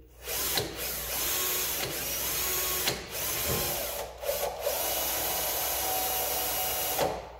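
A drill bores slowly through a carbon fiber car hood to fit hood pins, a steady whirring hum broken by brief pauses and clicks, close by with no talking.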